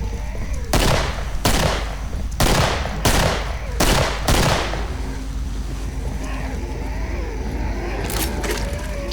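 Gunfire at a car in the video game Killing Floor: several loud, sharp shots in a quick irregular burst, then quieter crackling game ambience with a couple of fainter shots near the end.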